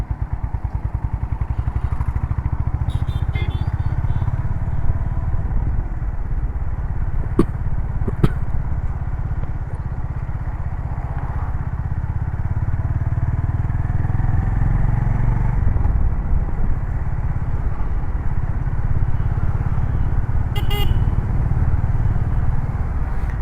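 A Honda CB350 RS motorcycle rides through late-evening traffic, its engine a steady, continuous drone close by, with occasional brief clicks and passing traffic noise mixed in.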